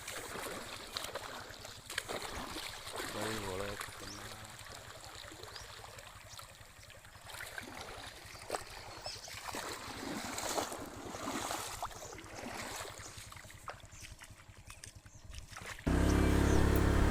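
Water flowing steadily across a village stream crossing that a motorbike has just reached, a continuous rushing wash with scattered splashes and no talk.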